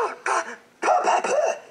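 A person's fake cough mimicking a cartoon villain choking on cake: two short rough bursts, a pause, then a longer run of three harsh hacking coughs, close and fairly loud.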